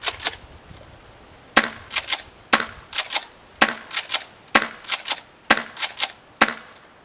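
An airsoft M870 shotgun fed from a hex mag fires a steady series of sharp, dry snapping shots, each followed by quick clacking pump-action clicks, in a regular rhythm close to the microphone.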